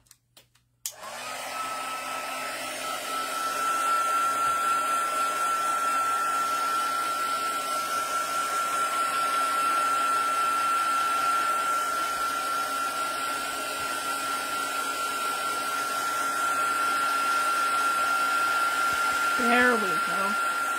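A hair dryer blows steadily and loudly for about twenty seconds, drying ink on a Halloween-themed craft card, with a continuous whir that starts abruptly and holds an even hum.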